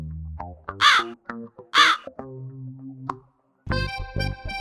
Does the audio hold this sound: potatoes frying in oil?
no